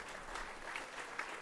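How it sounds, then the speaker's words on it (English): An audience at a lecture on JFK's presidency claps in steady, moderate applause that fills the short moment. "Does anybody want to applause Kurt?"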